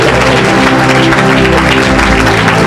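A church congregation claps along during lively worship, with steady applause under loud music and sustained tones throughout.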